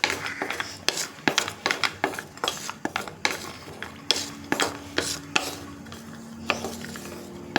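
Chopped cashews and almonds roast in ghee for pori halwa, heard as repeated metal spoon scrapes and clinks against the pan, with a soft sizzle underneath, close and fairly even.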